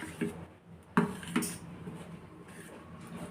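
A spoon stirs semolina dosa batter with added soda in a bowl, giving a few distinct clinks against the bowl's side between softer wet scraping.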